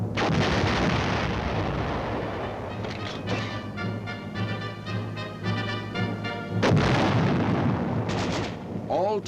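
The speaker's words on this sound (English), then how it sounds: "A limited number of actual weapons which have been modified to fire blank ammunition are also" Modified military weapons firing blank ammunition during an aggressor-force training exercise, heard as a dense run of loud, overlapping reports and bursts that carries on without a break.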